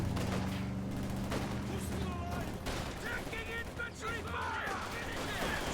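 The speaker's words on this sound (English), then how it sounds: "Jaeger light infantry firing away." Jaeger light infantry rifle fire in the strategy game Company of Heroes, crackling volleys of scattered shots within a busy battle mix, mostly under a commentator's talk.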